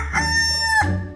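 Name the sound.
rooster crowing at neighbour's house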